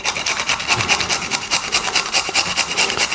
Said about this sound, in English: you're going to grate your garlic. So you need a grater at home.